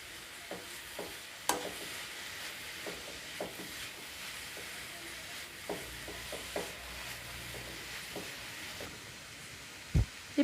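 Grated papaya tossed with garam masala, cumin powder, turmeric and asafoetida sautés in a pan, giving a steady soft sizzle broken by scattered spatula scrapes and clicks, with no talking.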